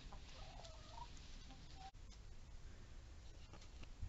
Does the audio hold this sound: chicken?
yes